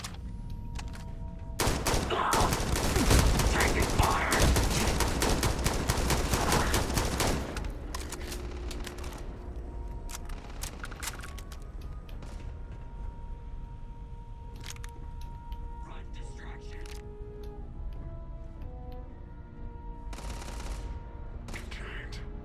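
Gunfire in the video game Starfield: a dense burst of rapid automatic shots, then scattered single shots and game effects over a steady ambient bed.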